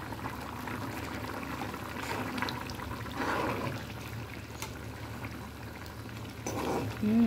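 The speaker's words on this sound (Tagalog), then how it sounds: "kulong-kulo na siya" Chicken stew with bay leaf boils vigorously in a pot, a constant bubbling and gurgling with occasional louder pops and splashes, close and moderately quiet throughout.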